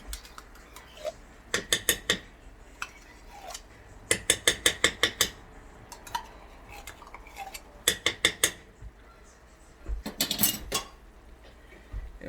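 Tomato paste is stirred into turkey in a pan. A utensil scrapes and clacks against the metal in quick rhythmic clusters of taps with short pauses between, close and moderately quiet, no talking.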